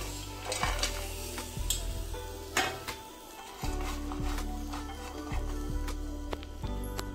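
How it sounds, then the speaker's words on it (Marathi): Coconut (khobra) dry-roasting on a hot tava frying pan, with a soft continuous sizzle broken by repeated scraping and clinking of a spatula stirring against the metal, close and fairly steady. "आता खोबरं आधी भाजून घेते"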